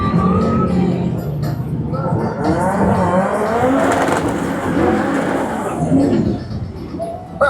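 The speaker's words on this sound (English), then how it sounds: "Have a look at that Cosworth turbo engine." A drag car with a Cosworth turbo V8 roars at Manston Raceway's run-what-you-brung event, a loud, close, continuous rasping engine howl that holds steady for the whole stretch, with a brief rising note near the end.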